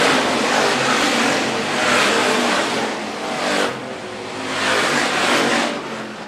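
Hobby stock race cars at a dirt raceway roar past in a loud, broad engine wash that swells and fades as cars sweep by, with revving pulses and no talk.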